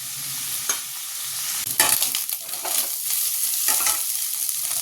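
Chicken cooks in a pan over low heat, giving a steady close sizzle broken by a few scraping stirs.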